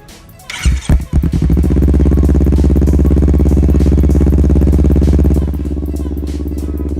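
A Kawasaki Z250 motorcycle engine cranks and catches, then settles into a loud, steady idle with a low, throbbing rumble close by, in a residential complex.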